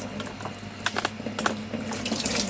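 Tap water splashes steadily over a dried luffa gourd sponge in a kitchen sink, a close, continuous broadband spray with small bursts of dripping and shifting flow.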